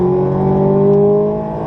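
A car on a race track accelerating out of a corner, its engine note holding a strong steady tone that rises slightly as it pulls away, loud and close without speech.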